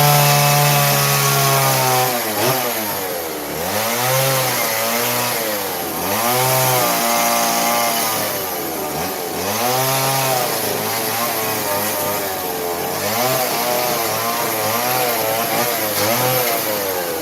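Chainsaw carving wood, the saw revving and bogging in repeated surging cuts, loud and close, with its pitch rising and falling throughout and no talking.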